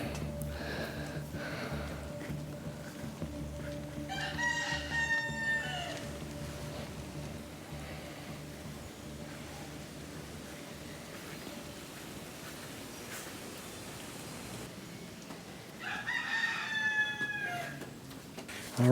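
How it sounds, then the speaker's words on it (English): Roosters crow and chickens cluck among the free-roaming flocks of Key West, two bursts of crowing standing out near the start and again toward the end over a steady outdoor murmur. "a very normal sight in Key West is there are chickens and roosters everywhere."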